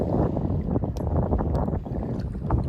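A low steady engine drone of a motorboat circling on a pond, rumbling continuously with some wind buffeting, no voices.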